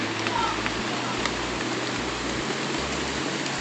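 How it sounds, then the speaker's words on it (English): Rain falling on the forest canopy on a wild walk, a dense steady hiss of drops with a few louder splats, with people talking under it. "up there you can really hear the rain going for it"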